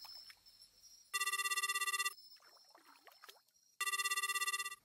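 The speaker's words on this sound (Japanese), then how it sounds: "電話が鳴った。" A telephone rings in two loud bursts of electronic trilling, each about a second long, separated by a pause with faint rustling and soft sounds in a quiet room.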